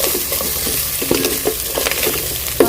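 Food frying and sizzling in a pan in a home kitchen while being stirred, with steady sizzle and intermittent scraping strokes of the utensil, fairly close and alone without talk.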